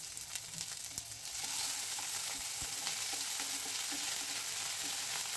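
Tomato, slit green chillies and grated ginger frying in a pan make a continuous hissing sizzle that swells after a second and holds steady, close and without voices.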